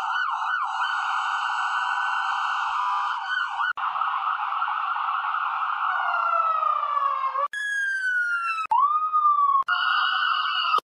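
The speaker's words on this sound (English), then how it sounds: "I'll just put a raging fire in the background with sirens in the foreground" AI-generated emergency sirens wail in the foreground, shifting through several distinct tones and sweeping pitch patterns with brief breaks between variations; no fire crackle is evident.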